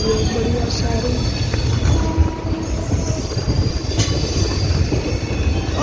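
A DEMU train running on the rails between Wankaner and Morbi rumbles loud and close, with steady wheel noise, rail clatter and occasional squeals of the wheels.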